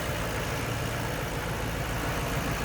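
A 2008 Ford Mustang Bullitt's 4.6-liter 3-valve V8 runs smoothly at a steady idle, a dense, even rumble with no speech over it.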